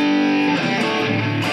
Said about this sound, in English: I'll turn on the distortion here.